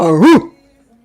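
A single short bark or yip, loud and close, over in a fraction of a second and followed by near silence; it could be a person imitating a dog on command rather than a real dog.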